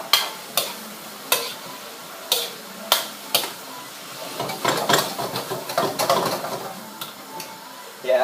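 A spoon stirs ginger through a spaghetti bolognese sauce in a pan. Sharp taps and clacks against the pot land every half second or so, followed by a denser stretch of scraping and soft sizzle, close and fairly loud.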